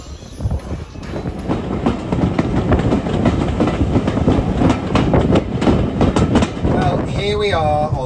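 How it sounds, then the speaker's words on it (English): Riding inside a moquette coach on the Isle of Wight Railway steam line, a steady clickety-clack of wheels over rail joints rolls on loudly, with a brief high squeal near the end and talk faintly present. "Here we are on the Isle of Wight Railway in a beautiful moquette coach"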